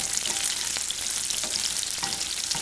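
Pearl onions sear in a pan of butter and oil, giving a steady, close sizzle and crackle with a few sharper pops scattered through.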